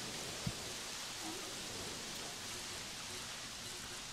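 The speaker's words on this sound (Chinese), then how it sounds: "哇，下雨了。" Steady rain falling in the video game Jurassic World Evolution, a soft, even hiss of drops held at a faint, constant level with one small knock near the start.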